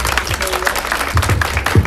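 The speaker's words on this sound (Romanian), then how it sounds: "Haideți să aplaudăm!" An audience claps at a kindergarten's school-year opening ceremony, a brief burst of lively, close applause from a small crowd.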